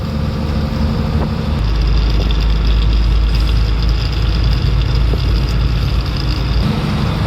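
A truck's diesel engine drones loudly and steadily from inside the cab while driving on a highway into Andhra Pradesh near Sri City. The low rumble is continuous and unbroken, with no talking.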